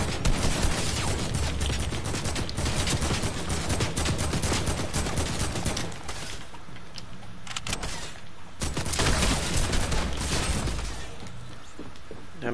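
Rapid bursts of video game gunfire in a shooter, dense, loud and continuous, with brief lulls between volleys.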